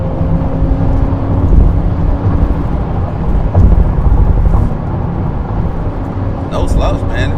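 Acura Integra engine pulled hard toward redline through the gears, a loud, steady broadband roar running the whole stretch close to the microphone, with a brief shift-like dip near the end.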